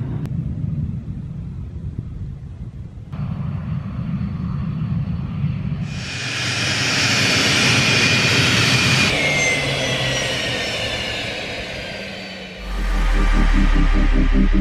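A private jet's engines spool up during a taxi test, a low rumble giving way to a loud rising turbine whine with a sliding high tone, then a heavy deep roar at the end.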